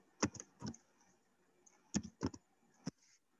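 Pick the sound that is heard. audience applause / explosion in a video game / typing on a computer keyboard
typing on a computer keyboard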